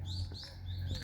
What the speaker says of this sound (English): But there's lots of birds